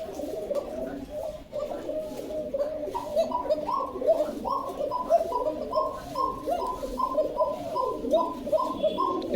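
Pigeons, desi fancy breeds kept for sale, coo in repeated soft throaty phrases close by, their rhythmic calls pulsing steadily and growing a little fuller toward the end, with faint background voices.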